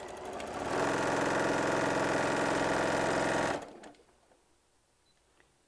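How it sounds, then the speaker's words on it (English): A sewing machine chain pieces fabric for a hummingbird panel quilt, running in one loud, steady stretch of about three seconds before stopping into near silence. "I'm just going to get this one through, grab the next one, and just go ahead and sew it through."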